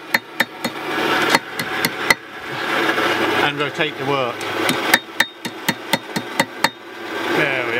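Sharp, ringing blacksmith hammer blows on hot metal at a portable forge, struck in irregular bursts close by, with a voice speaking briefly between strikes.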